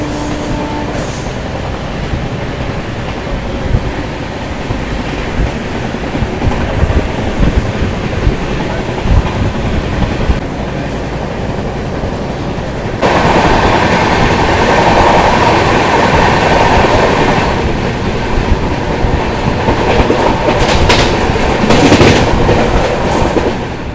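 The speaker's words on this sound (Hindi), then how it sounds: "फाइनली अपनी ट्रेन आ चुकी है न्यू बंगाई गांव रेलवे स्टेशन पर" The Brahmaputra Express, a passenger train, runs on rails near New Bongaigaon railway station with a steady loud rumble and clickety-clack of wheels. The noise grows heavier partway through and continues without break for about 24 seconds, with faint voices in the background.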